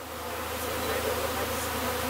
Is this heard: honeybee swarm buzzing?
yes